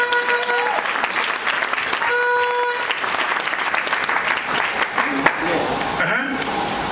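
A church congregation claps and cheers in praise of the Lord, a dense, steady wash of applause filling the room, with a sustained musical tone and voices mixed in underneath.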